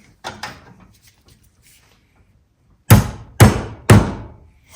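Part of a Shimano Ultegra HB-6500 bicycle hub being tapped out while held in a vise: a couple of lighter knocks, a pause, then three sharp, loud metallic blows at an even pace.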